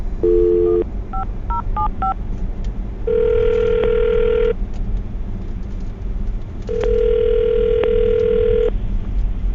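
A telephone dials for a radio call, with a quick run of touch-tone beeps followed by two long, loud ringback tones separated by a pause, clear and close.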